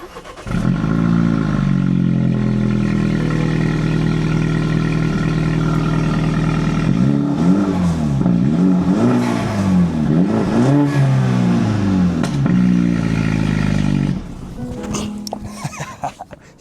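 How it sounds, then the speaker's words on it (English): Engine of a salvage Mini John Cooper Works idles steadily, then revs up and down in several rising and falling sweeps with turbo whoosh, loud and close, before cutting back to quieter rattling. "we got turbo noises"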